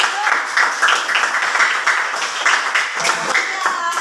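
Children in a classroom clap for a classmate, a dense, uneven patter of small hands sustained for about four seconds, with young voices chattering and calling out over it.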